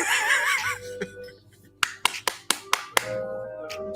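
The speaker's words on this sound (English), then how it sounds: "I had to clap it up." Several sharp hand claps land in a quick, uneven burst after a stretch of muffled background chatter, followed by a lingering low hum.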